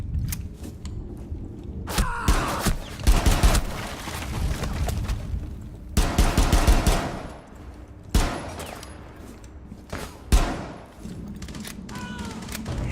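Rapid bursts of gunfire from Rainbow Six Siege, played as the operator Rook, come in several loud volleys with sharp cracks and short gaps, firing as fast as possible at enemies, with game sounds between the bursts.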